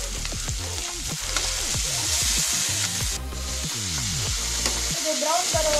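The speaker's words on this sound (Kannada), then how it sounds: "ಇದು ಬ್ರೌನ್ ಬರುವವರೆಗೂ ಹುರಿಯಿರಿ. ಚೆನ್ನಾಗಿ ಹುರಿಯಿರಿ." Vegetables for a homemade carrot and potato Manchurian sizzle and fry in a pan with chilli and tomato, a utensil stirring and scraping through them in steady, close, busy strokes over a continuous hiss.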